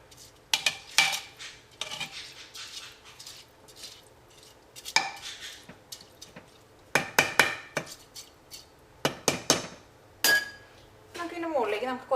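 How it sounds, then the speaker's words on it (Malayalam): A spoon stirs chicken biryani in a pressure cooker gently, making scattered metallic clinks and scrapes against the pot in irregular bursts, close and moderately loud, with quiet talk in places. "ഇനി നമുക്ക് മുകളിൽ മാത്രം പതുക്കെ ഒന്ന് ഇളക്കി കൊടുക്കാം."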